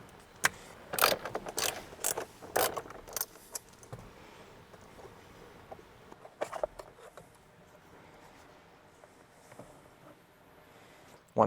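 A ratchet loosening Torx bolts inside a Toyota Tacoma cabin, giving bursts of quick metallic clicking and jangling early on, then sparser faint clicks and handling noises, close up with no talking.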